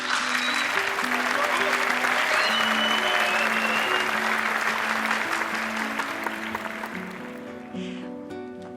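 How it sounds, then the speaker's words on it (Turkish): An audience applauds at a live gathering, dense sustained clapping that stays full and close before tapering off near the end, with faint musical tones and murmured voices underneath. "kocaman bir alkış istiyorum sizden"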